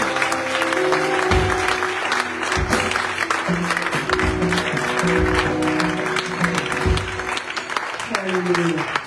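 A church congregation claps and cheers in praise, sustained applause filling the room over a bed of music and raised voices, with the clapping continuing steadily from start to finish.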